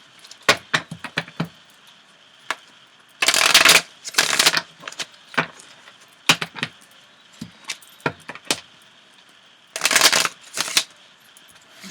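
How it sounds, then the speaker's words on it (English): Decks of tarot cards are shuffled up close, with quick riffling bursts, a few longer rustling riffles, and scattered sharp taps and slaps of cards between them, and no talking. "Okay, let's get some shuffling going."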